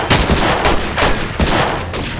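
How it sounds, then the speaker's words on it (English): Covering fire in a battle scene, as a gunfire sound effect: loud, close bursts of shots repeating in a steady rhythm, with no talking over them. "Give those men covering fire!"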